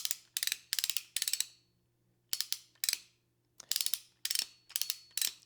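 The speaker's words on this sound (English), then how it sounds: "This is your ratcheting mechanism that actually does the tensioning." A hand strapping tool's ratcheting tensioning mechanism clicks in quick, crisp bursts of three or four clicks, repeated in several groups with short pauses, close and clear with no talk.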